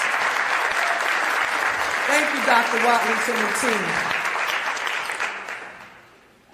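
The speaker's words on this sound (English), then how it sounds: "Give that a round of applause." An audience at a Philadelphia school funding announcement breaks into a steady round of applause that fills the clip, while a speaker talks over it and the clapping tapers off at the end.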